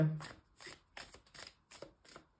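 Tarot-style oracle cards shuffled by hand during a card reading: five or six soft, rhythmic riffling bursts at a steady pace, close and fairly quiet, with no talk.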